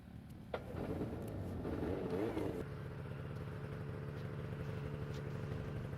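A Ski-Doo snowmobile engine runs steadily on Arctic sea ice near a polar bear, a rough mid-pitched rumble that swells briefly and then settles into a constant idle, with a voice heard over it.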